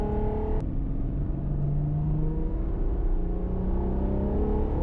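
A Ferrari Purosangue SUV engine revs up and accelerates, a loud steady roar rising in pitch as it pulls away, heard from inside.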